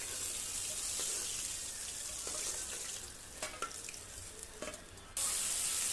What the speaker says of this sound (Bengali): একইভাবে আমি আরও কিছু মাছ ভেজে নেব।